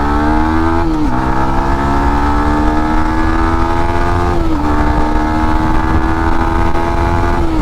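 Yamaha MT-15 V2 motorcycle ridden at full power toward top speed, a loud, close, steady engine drone with strong harmonics that dip briefly at two gear shifts, then pull on again with no talking.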